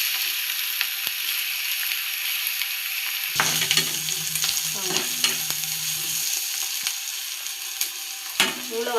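Semiya (vermicelli) sautés in a pan with a steady, close sizzle, broken by scraping stirs and clinks of the spoon against the metal.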